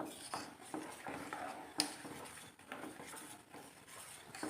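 A spoon stirs and scrapes a pot of milk mixed with homemade custard powder in soft, irregular strokes. Small clinks of metal sound close and quiet, with no talk.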